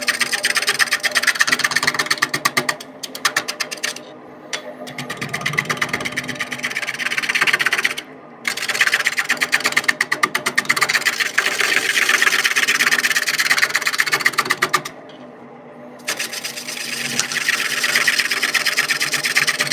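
Wood lathe turning a wooden vase as a gouge cuts the outer surface, a loud, steady scraping whir broken by a few short pauses as the tool lifts off, close by and without talk.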